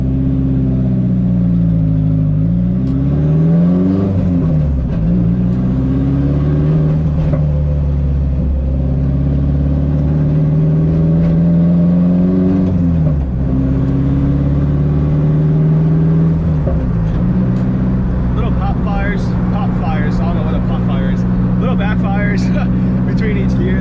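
An S14 Nissan with a swapped SR20 engine pulls hard through the gears on a street, heard from inside. A loud, droning engine climbs in pitch, dips at each shift, then climbs again, close and continuous.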